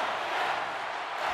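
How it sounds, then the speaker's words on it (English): A packed NHL arena crowd in an ice hockey video game roars continuously, a dense, steady wash of cheering and noise with no pauses, loud and enveloping. "you can feel the energy in this crowd"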